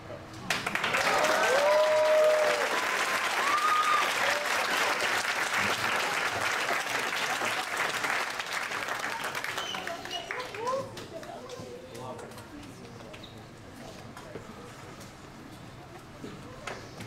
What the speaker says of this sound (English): Really enjoyed that poem. Can we give him another round of applause,